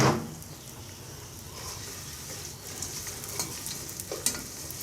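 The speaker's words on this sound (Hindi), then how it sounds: "अब मैं इसमें मैंने जो चॉप किया हुआ है जिंजर गार्लिक ये मैं मिक्स कर रहा हूँ" Chopped ginger and garlic sizzle in hot oil as a spoon stirs them around the pan, a steady close frying hiss with light scraping strokes and small clicks, no voices.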